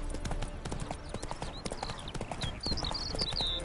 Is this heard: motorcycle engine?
no